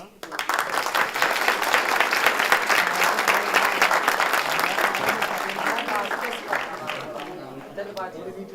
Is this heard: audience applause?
yes